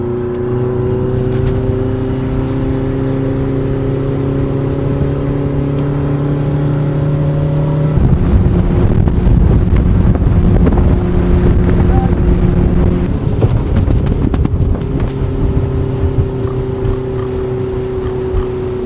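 The engine of a small fishing boat drones loud and close at full throttle, a steady tonal hum that steps up in pitch and roughness midway, mixed with wind buffeting and some talk.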